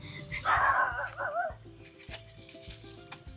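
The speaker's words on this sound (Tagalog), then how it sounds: "May aso pa." A dog barks a few times at mid distance outdoors near a wind-felled papaya tree, its yelps mixed with rustling and a voice talking over it.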